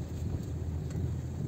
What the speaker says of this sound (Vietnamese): trời mưa nữa nha các bạn